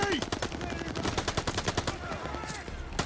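Sustained machine gun fire in the Call of Duty Vanguard video game, a loud, rapid, steady stream of shots with battlefield noise and voices in the background.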